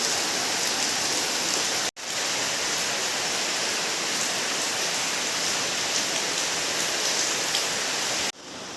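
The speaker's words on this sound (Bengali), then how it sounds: "দেখো বৃষ্টি পড়ছে" Steady early-morning rain falls continuously in a dense, even hiss, close and fairly loud, with brief cuts but no talking.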